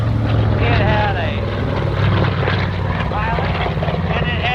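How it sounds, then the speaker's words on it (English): An SB-2C propeller warplane drones past at an airshow, a loud, steady engine roar throughout with someone talking over a public address system on top. "You can see out in front of you, ladies and gentlemen, the SB-2C."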